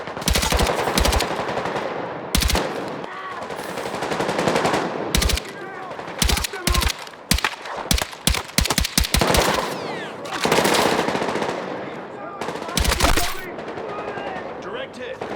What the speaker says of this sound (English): Moving through the souk under heavy fire.